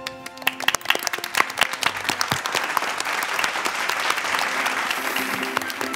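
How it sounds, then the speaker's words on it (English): Audience applause for the team crowned champions of a children's elementary-school quiz show, a steady, dense wash of many hands clapping that holds at full strength for several seconds with no talk. "Let's give them a round of applause."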